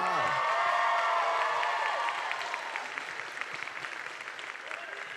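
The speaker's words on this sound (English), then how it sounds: "Can we get one more round of applause?" Audience at a live Q&A event for The Office applauds and cheers, loud dense clapping with whoops at first that gradually thins and softens toward the end.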